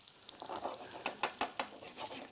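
Fish sizzles in a hot frying pan as it is flipped over onto its browned crust, with steady crackling frying broken by four or five sharp spatula knocks close by.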